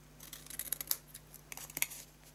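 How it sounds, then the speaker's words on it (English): Scissors snip through card to cut and notch tabs for a handmade Stampin' Up! keepsake gift box, a quick run of sharp close crisp cuts with short pauses, no talking. "we're going to cut up for the tabs. So we cut up and just notch in."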